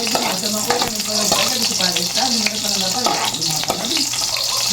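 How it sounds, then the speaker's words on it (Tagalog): Garlic and onion sauté in a hot pan with a loud, continuous sizzle and stirring scrapes, while people talk over the cooking. "nilagyan na po yung bawang, tapos nilagay na rin po yung sibuyas."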